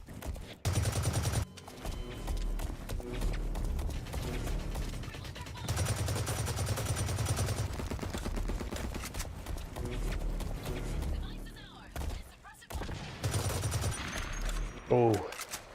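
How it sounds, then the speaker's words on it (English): Video game gunfire rattles in dense, rapid bursts close by, with sustained automatic volleys and a few pauses, while a person talks underneath. "the gun sounds are really, really good. Like, every gun sounds good in this game."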